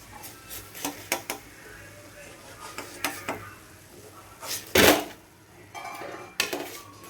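Fried food being lifted out of a pan of oil to drain, with scattered metal clinks and scrapes of a utensil against the pan, a brief louder rattle near the middle, and faint sizzling between.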